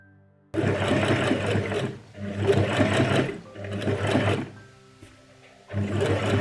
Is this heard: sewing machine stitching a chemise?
yes